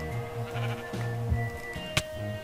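Sheep bleating in Minecraft, a few short wavering baa calls in quick succession, fairly close and clear over a faint game backdrop with a sharp click near the end.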